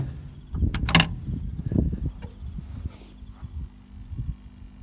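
A fridge slide on a Blue Tongue XD Series 2 camper trailer is pulled open, giving a few low clunks and a rolling rumble close by, then quieter knocks.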